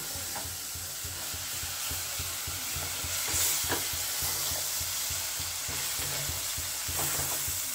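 Kashmiri chili frying in hot oil in a kadhai for kadhai paneer, a steady close sizzle broken by rhythmic stirring scrapes throughout, with no voices.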